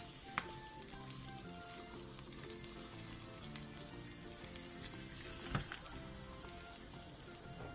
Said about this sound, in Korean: 팬에 기름을 두른 뒤 배추를 올려 중약불에서 부쳐주세요.